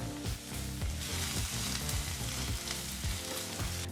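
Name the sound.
onions and pounded spices stirred and heated in butter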